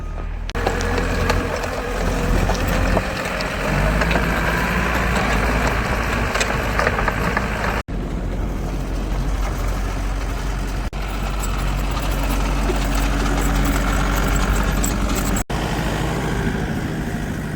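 A Fendt 1050 tractor engine idles steadily with a low, constant rumble, accompanied by continuous rattling and clattering noise throughout, with no talking.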